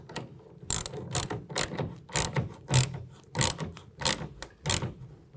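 A ratchet with a 9/16 socket tightens a clamp on a BAK Revolver X4 tonneau cover on a 2020 Ram 2500, giving about a dozen quick, close clicking strokes in a steady back-and-forth rhythm.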